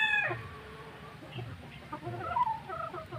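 Gull roundhead stag, a gamefowl rooster, clucking in short bursts up close in a farm pen, with other chickens and a distant crow in the background.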